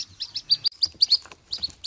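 Rapid high-pitched chirps from burawakwak bird chicks, repeated in quick bursts, close and fairly clear with no talking.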